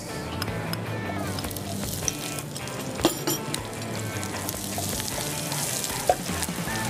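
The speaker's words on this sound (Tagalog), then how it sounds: "Gigisa lang natin ng mabuti." Onion sautéing in a little cooking oil for a Filipino kamaro dish, a moderate continuous sizzle with occasional utensil clinks against the pan, close by and without speech.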